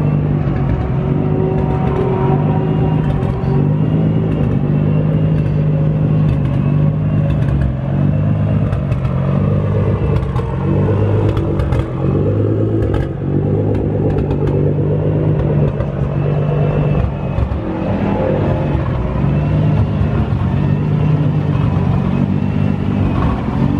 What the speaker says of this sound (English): All the GTRs out here racing.